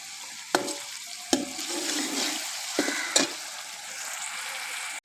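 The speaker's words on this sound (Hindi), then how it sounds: "2-3 मिनट के लिए टमाटरों को भी भून लेना है" Tomatoes frying for aloo chicken karahi give a close, steady sizzle broken by four sharp spatula scrapes and knocks against the pan, heard alone without talk.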